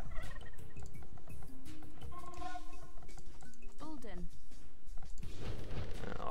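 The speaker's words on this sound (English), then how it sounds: "Oh, we found some more turkeys." Turkeys gobble in Age of Empires 2, several warbling calls rising and falling amid game sounds and mouse clicks, with a person talking alongside.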